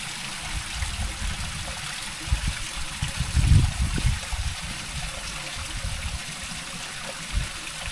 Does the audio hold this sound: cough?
no